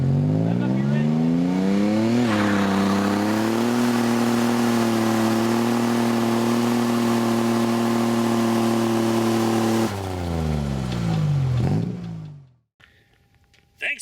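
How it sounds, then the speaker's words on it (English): A manual-transmission car engine revs up hard and holds a loud, steady high-rev drone for several seconds, then drops back and winds down before cutting out, close by and dominating throughout. "Rev up your engine."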